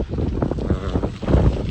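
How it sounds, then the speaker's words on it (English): Wind blows hard outdoors and buffets the microphone, a loud, rough rumble that swells and dips in gusts and never stops. "It's quite windy, you should feel some wind."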